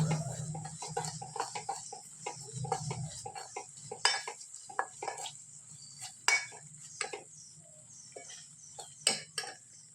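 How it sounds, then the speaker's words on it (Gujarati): Chopped pieces being stirred into thick pickle masala in a pot for methiya gunda pickle, with a string of soft scraping and clinking spoon strokes against the metal, fairly close and quiet with no talk. "પછી આપણે પૂરિયા નાખી દઈશું આ રીતે એકદમ સરસ બધું હલાવી લઈશું"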